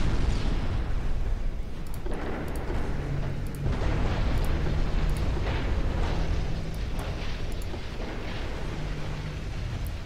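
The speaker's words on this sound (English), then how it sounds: "Can you launch your complement of torpedoes?" Warships launch torpedoes in the naval game Ultimate Admiral Dreadnoughts, set in a British 1900 campaign: a continuous roaring rumble with repeated muffled thuds and bursts, loud and dense throughout.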